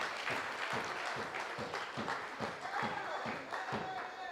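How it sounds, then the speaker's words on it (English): An audience claps for the NNP Youth Arm executive members at a youth event in Mac Donald College, steady moderate applause with rhythmic pulsing, some of it sounding like a group clapping in time, at medium distance. "put your hands together and give them a round of applause"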